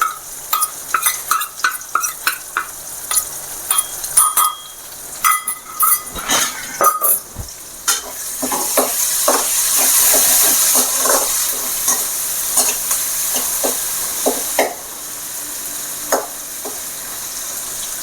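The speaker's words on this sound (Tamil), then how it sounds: "அடுத்தது நம்ம இந்த இடித்து வச்சுருக்க இஞ்சியும் பூண்டையும் போட்டுக்கலாம்" Crushed ginger and garlic hit hot oil in a pan, crackling and sizzling loudly while a spoon scrapes and stirs, then settle into a steady hiss of frying.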